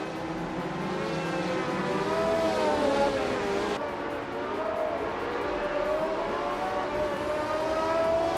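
Race cars roaring off at the start of a race, engines droning steadily and loud with rising and falling pitch as they pull away together.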